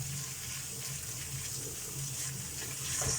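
Tap water runs steadily into a sink as peas are washed under it, a continuous close rushing splash with no pauses.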